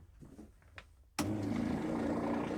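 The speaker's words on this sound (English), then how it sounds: "go ahead and turn on the water pump" A camper's water pump switches on abruptly after a quiet stretch, settling into a steady loud whirring hum as it pressurizes the lines.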